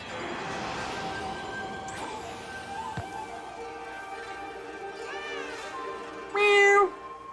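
A cartoonish cat meow from the video game Okami rings out clearly, with a brighter burst near the end, layered over the game's music and effects.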